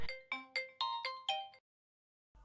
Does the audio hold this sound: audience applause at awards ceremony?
no